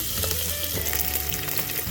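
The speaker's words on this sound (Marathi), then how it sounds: "त्यात तेल घातलं यात खडे मसाले टाकूयात बारीक चिरलेला कांदा घातला" Finely chopped onion hits hot oil with whole spices in a pot on a stove, giving a dense, loud, continuous sizzle up close, with no voices.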